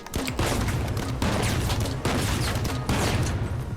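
Grenade launcher rounds exploding in The Finals, fired as slower but stronger, wider-blast projectiles, give loud, dense booming bursts that repeat roughly every second with no gaps in between.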